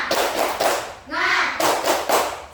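Classroom children perform the "tepuk semangat" clapping chant: sharp bursts of group clapping in a rhythmic pattern, broken by a loud chanted voice in the middle, with kids' voices throughout.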